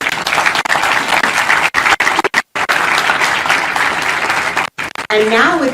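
Audience applause at the Concourse K groundbreaking ceremony for a new airport terminal, a dense, steady wash of clapping that runs loud for several seconds, breaks off briefly twice and then resumes.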